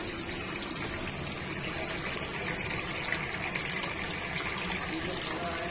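Water splashes and gushes steadily as poppy seeds (khaskhas) are rinsed in water to wash out the dirt, a close, continuous sloshing that runs throughout.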